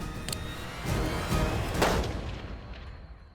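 A single sharp rifle shot cracks out and rolls away in a long echo, with no voices, outdoors at a moderate distance during a coyote hunt in New Mexico.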